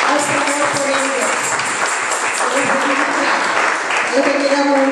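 Applause from a church congregation at a children's service. Loud, steady clapping carries on throughout, and a voice speaks over part of it.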